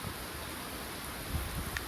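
Rain falling outdoors as a steady, soft broadband patter with a faint rustle, a few brief louder drops near the end, and no voices.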